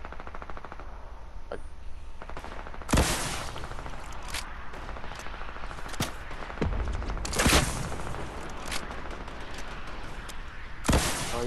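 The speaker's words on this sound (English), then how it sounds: "That's me shooting the rockets right at him." Rockets fired from a launcher in Fortnite, several sharp loud blasts and booms spaced across the stretch over a steady background of game noise and distant gunfire.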